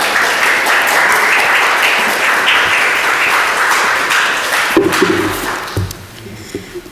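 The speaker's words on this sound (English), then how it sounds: "let's give a warm round of applause for our speaker" An audience at a history lecture on Hartford's urban unrest of 1967–1969 gives the speaker a round of applause, broad steady clapping that thins out near the end as a few thuds and movement noises take over.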